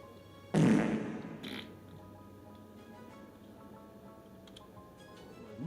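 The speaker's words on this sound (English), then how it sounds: "With our farting snail monsters." A farting snail monster sound effect, a single loud, wet, squelchy burst lasting about a second, followed by a brief softer splutter, with quiet background clutter afterward.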